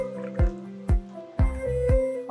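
Cold water is poured into a pressure cooker holding wheat rava kichidi, landing in four distinct close, sharp splashes with a hollow ringing tone in between.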